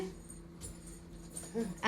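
A dog gives a short, soft whimpering whine that rises into a brief yip at the end, close and fairly quiet.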